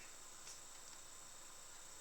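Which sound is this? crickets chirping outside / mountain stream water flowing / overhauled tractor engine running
crickets chirping outside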